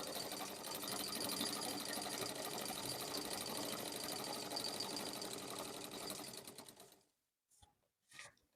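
A sewing machine stitches along a marked line in a tailoring class, giving a continuous rapid mechanical whir for about seven seconds, then a few short bursts as it stops, with no voices.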